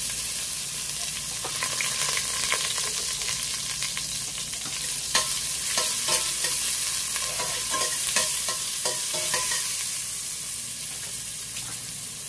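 Ginger goes into a hot pan for salmon sinigang sa miso and sizzles steadily, a dense, continuous frying hiss with scattered stirring scrapes and clicks throughout, fairly close and with no talk.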